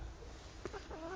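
Chickens cluck softly in a coop, a few short, faint clucks and a rising call over a quiet background.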